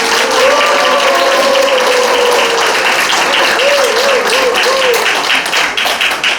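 Sustained audience applause fills a lecture hall in honor of former Hyundai Heavy Industries chairman Choi Gil-seon, dense and steady for about six seconds, with faint voice-like tones riding over the clapping.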